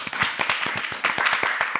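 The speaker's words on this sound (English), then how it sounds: "Let's clap for that." Live audience clapping at a celebrity interview taping, a steady patter of individual hand claps with distinct sharp strikes, moderately close and sustained for a couple of seconds.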